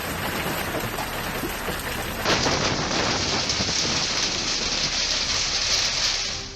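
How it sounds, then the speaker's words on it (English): Hail pounding down in a Florida storm with high winds, a dense, loud, steady roar of impacts that grows heavier partway through, with no voices. "Florida was battered by hail,"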